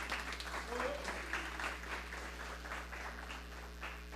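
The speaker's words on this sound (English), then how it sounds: "We can give him a round of applause, please." An audience at an alumni panel event applauds, a faint, steady wash of clapping heard from a distance over a low hum, with a voice briefly audible.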